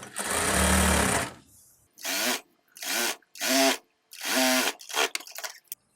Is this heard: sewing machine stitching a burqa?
yes